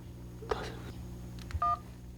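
Telephone keypad buttons pressed by an elderly man with shaky hands, calling from an old traditional Korean house: a few brief electronic dialing tones, near and fairly clear, with faint low talk in the background.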